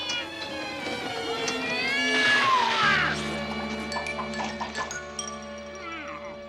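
Azraël, the cartoon cat in the Smurfs, lets out a long drawn meow that rises and then trails off, alongside music and sound effects, followed by a brief lower yowl near the end.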